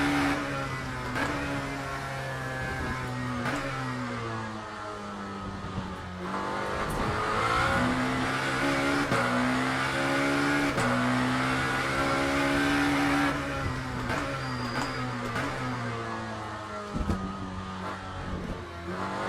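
A Lamborghini race car in Le Mans Ultimate, its engine droning with rising and falling revs through gear changes, loud and continuous with occasional tire noise.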